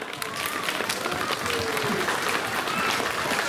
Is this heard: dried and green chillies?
no